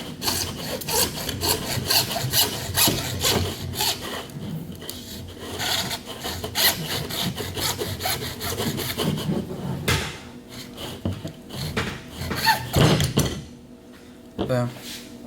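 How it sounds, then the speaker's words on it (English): Hand saw cutting a piece for a homemade catfish jug line, steady back-and-forth rasping strokes, close and loud, continuing for a long stretch with brief uneven pauses near the end. "I'm gonna go here and I'm gonna start sawing."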